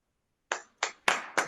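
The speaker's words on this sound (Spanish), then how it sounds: "A todos les pediría por favor levantar los micrófonos para agradecer y despedir a Diego con un aplauso" Four separate sharp claps from a small online audience at the close of a Spanish-language dialogue, spaced about a third of a second apart, quiet and close with no voices.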